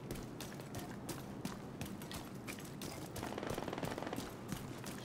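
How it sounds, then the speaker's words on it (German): Gunfire crackles in The Division 2 video game, with a run of sharp, rapid shots at a moderate distance over a steady background din, with no speech. "Ich höre schon wieder Schüsse."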